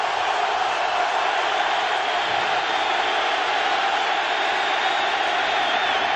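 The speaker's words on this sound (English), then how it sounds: "3rd and 11, and the crowd picks up the noise." Dense football stadium crowd roaring steadily and swelling in noise on third and long during a Baltimore Ravens at Pittsburgh Steelers NFL game, a loud continuous wash of voices with no clear talk over it.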